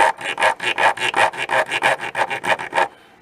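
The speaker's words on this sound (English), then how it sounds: "So you can use it as a rasp when you pull backwards." A rasp dragged backwards across wood, about fourteen quick, even rough strokes in steady rhythm, loud and close, with no talking, then a sudden stop.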